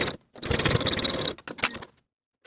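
A sewing machine runs a rapid, close burst as it stitches the short edges of a flutter-sleeve top, pauses briefly, then runs two shorter bursts before stopping.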